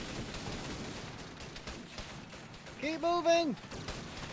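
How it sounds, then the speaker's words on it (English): Gunfire rattles through a war video game battle set in Indochina, with a broad crackle of shots and explosions under a player's voice shouting commands, plus a brief tonal in-game sound near the end. "All this gunfire."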